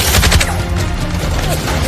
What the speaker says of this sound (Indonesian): suara tembakan Michael masih terdengar gencar